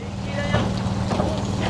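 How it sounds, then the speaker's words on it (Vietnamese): A diesel S6R engine roars steadily aboard a purse-seine fishing vessel during its launch at a Phu Yen shipyard, a loud continuous drone mixed with wind buffeting the microphone. "nghe cái tiếng gầm rú của động cơ S6R đập thùng"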